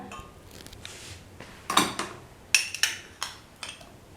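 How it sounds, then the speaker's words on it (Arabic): A metal cooking pot is picked up and set down in a kitchen while pasta is made, producing a quick series of clanks and clinks, close and moderately loud, with no talk. "تو باش نمد المعون اللي باش نطيب فيه، هو هذا"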